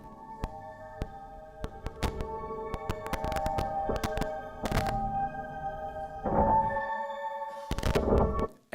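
A voice's pitch component, isolated and run through an elaborate audio effect, comes out as a mesh of sustained tonal drones with scattered clicks and sharp bursts. It builds gradually, swells near the end, and no one talks over it.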